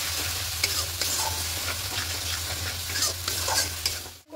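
A spice mixture for a vegetarian soybean curry is stirred and sautéed in a pan with a little water, giving steady sizzling under repeated scraping spoon strokes, close and fairly loud, with no talking.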